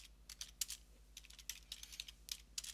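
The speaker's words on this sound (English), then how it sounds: "Just typing that to him." Quick, uneven bursts of typing on a computer keyboard, close and fairly quiet, with no talking.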